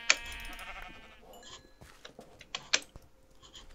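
Sheep bleat in the Minecraft video game, a quavering game bleat at the start followed by quieter clicks and a few sharp taps, faint, with no speech.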